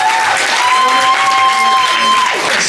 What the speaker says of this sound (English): let's give a big round of applause for John Devlin and Daniel Houston